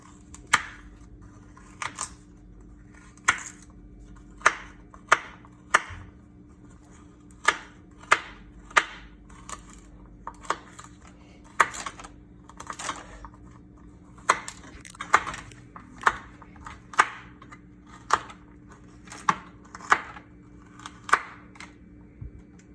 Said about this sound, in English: All I gotta do is just chop this up